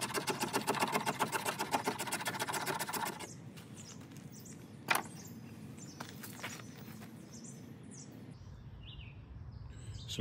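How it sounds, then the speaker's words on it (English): A Mora Companion stainless knife scrapes fatwood into shavings with rapid, rhythmic, close-up scraping strokes for about three seconds, followed by quieter, sparse handling and scraping sounds. "Get some fatwood scrapings off of this."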